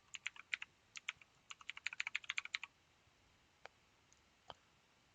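Rapid bursts of keystrokes on a computer keyboard while renaming a variable during reverse engineering in Ghidra, close and crisp, then slowing to a few isolated clicks with no talking.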